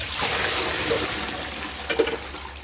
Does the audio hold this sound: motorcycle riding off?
no